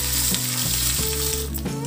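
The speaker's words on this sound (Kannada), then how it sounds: "ಮೆಂತೆನ ಮತ್ತು ಒಣ ಮೆಣಸಿನ್ಕಾಯಿ, ಬೇವು, ಸ್ವಲ್ಪ ಇಂಗು ಹಾಕ್ಬಿಟ್ಟು ಸ್ಟವ್ ಆಫ್ ಮಾಡ್ತಾ ಇದ್ದೀವಿ" Fenugreek, dried chillies, neem leaves and asafoetida crackle and sizzle in hot oil for a tempering, a loud, continuous close-up frying hiss with sharp pops throughout.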